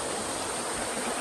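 Fast rain-swollen river water rushes past a riverside campsite in a constant, dense roar that stays steady and loud throughout, with no voices.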